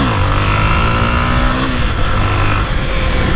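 A Honda XRE motorcycle engine revs hard and close, a continuous loud roar that rises in pitch and holds throughout.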